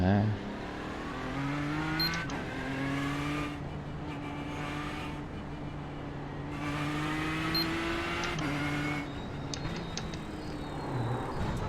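A Ford race car engine in the iRacing video game drones and revs steadily, pitch climbing through gears and dropping at shifts, with a voice talking briefly over it.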